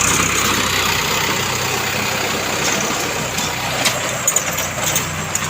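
A tractor engine runs nearby in an open village courtyard where work is underway, a continuous loud rattling drone with a few knocks toward the end.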